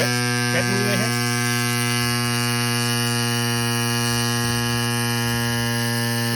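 Silca Electtrico electric pump inflating a motorcycle tire, a steady droning motor hum with strong tonal whine held throughout, close and constant, with a couple of faint knocks early on.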